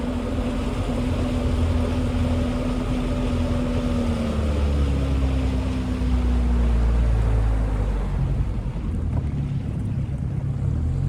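A 1969 Glasspar Tacoma 14 boat at full throttle on open water, with a steady, loud outboard drone that shifts pitch as it speeds up, set against heavy wind buffeting and rushing water.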